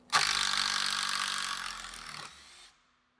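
A Makita entry-level impact driver backs out a screw from wood in one continuous burst lasting over two seconds, loud and close, then winds down and stops, with no talk.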